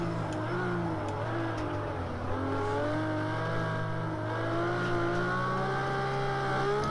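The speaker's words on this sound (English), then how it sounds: "So this car sounds amazing." Ferrari LaFerrari engine in the Project Cars 2 racing game on PS4, a steady high-pitched drone that climbs and falls through revs with no talk, loud and continuous.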